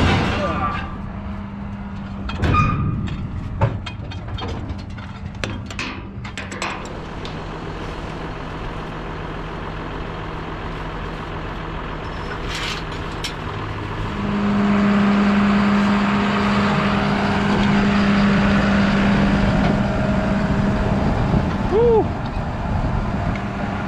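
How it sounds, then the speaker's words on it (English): A John Deere 6195R tractor pulls out during corn grinding, first some clanks and knocks under a mid-distance rumble, then a louder, steady engine drone with a whining tone builds over the last half, with talking heard throughout. "So he's gonna pull out with the tractor."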